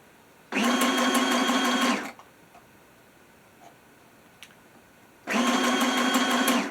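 A sewing machine stitches ruffles for a junk journal, running in two loud, steady bursts of rapid mechanical clatter about three seconds apart, with quiet room tone between and no talking.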